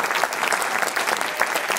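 Steady, dense audience applause at a musical tribute event in Celeiro, a close, unbroken wash of many hands clapping without talk.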